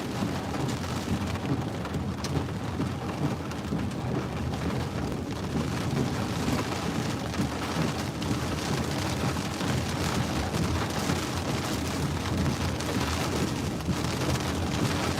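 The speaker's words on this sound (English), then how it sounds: "It's a dangerous storm." Heavy rain from a tornado-warned thunderstorm in South Dakota pours steadily and densely, with a deep rumbling undertone of thunder running throughout, loud and continuous with no voices.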